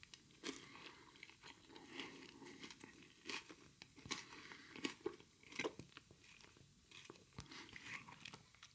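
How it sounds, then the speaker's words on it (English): Close, quiet crunching and chewing of a UK chocolate bar with a caramel-wrapped biscuit centre, with irregular crisp bites and moist mastication sounds and no talking. "So the biscuit centre just kind of crunches."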